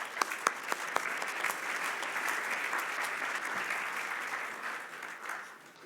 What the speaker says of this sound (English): Can you welcome him with an applause?